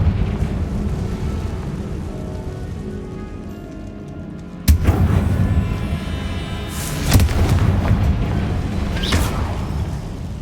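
Confringo fire-spell blasts in the Hogwarts Legacy video game: a sudden loud burst midway, followed by further rumbling impacts over a dense, noisy game backdrop.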